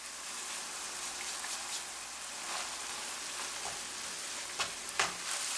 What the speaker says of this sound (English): we're going to let this cook until that liquid has evaporated and our onion is softened